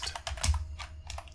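A short burst of keys tapped on a computer keyboard while web code is entered, several quick close clicks at a moderate level with no voice.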